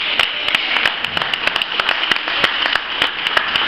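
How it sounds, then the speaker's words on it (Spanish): An audience at a tango event applauds, a dense wash of clapping with scattered louder individual claps, close and loud, with no talking. "quiero pedir un fuerte aplauso para mi sonidista"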